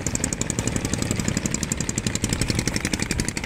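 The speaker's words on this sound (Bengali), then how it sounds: "মালবাহী ট্রলার যাচ্ছে" A cargo trawler's engine on the Buriganga River in Dhaka chugs close by in a fast, steady pulsing beat with a rattling edge, running loud and unbroken with no talk over it.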